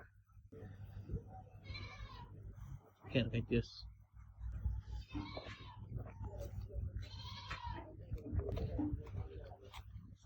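Goats bleat repeatedly at an outdoor cattle and goat market in Oman, several calls at middling distance, while people talk throughout over a steady low background hum.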